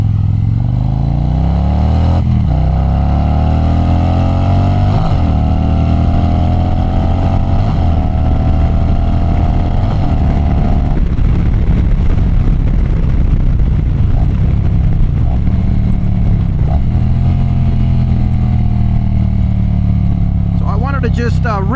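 A Harley-Davidson bagger on Michelin Commander III tires accelerates with a steady, loud engine drone that rises through the gears, wind rush layered over it and a rider talking above the engine.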